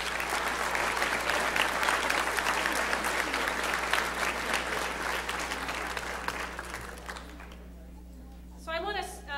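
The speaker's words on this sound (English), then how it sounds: "let's give them another round of applause." An audience at a university spring convocation applauds at length, a dense, steady wash of clapping that gradually fades before a voice starts speaking at the end.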